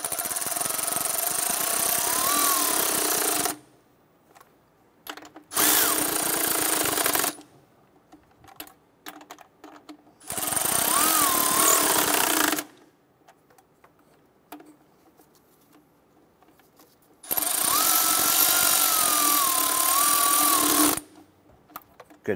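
Power tool snugging down the lower starter bolts on a 2008-2012 Honda Accord, in four loud whirring bursts of a few seconds each, separated by quieter pauses.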